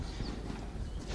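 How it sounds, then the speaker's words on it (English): Hooves of an Explorer horse clip-clopping during a ride, steady muffled thuds under broad outdoor noise, fairly close, with no talking. "This is an Explorer horse."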